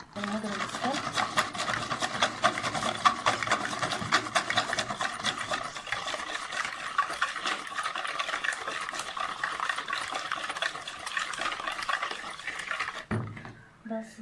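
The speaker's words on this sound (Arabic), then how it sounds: "بس ضربنا البيض مع الفانيليا" A wire whisk beats eggs with vanilla in a bowl, a fast, steady clicking and scraping that runs almost without a break, with a voice talking over it until it stops abruptly near the end.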